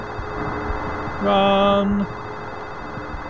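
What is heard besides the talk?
ringing telephone in Silent Hill 4: The Room, video game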